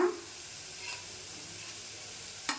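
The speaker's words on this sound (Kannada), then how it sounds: "ಇದನ್ನು ಎಣ್ಣೆಯಲ್ಲಿ ಸರಿಯಾಗಿ ಫ್ರೈ ಮಾಡ್ಕೊಳ್ಳೋಣ ಇವಾಗ ಕಟ್ ಮಾಡಿರೋ ಕರಿಬೇ ಸೊಪ್ಪನ್ನು ಹಾಕೋಣ" Curry leaves dropped into hot oil while making betageri chutney for poori, giving a steady close sizzle and hiss with a sharper burst at the start and another near the end.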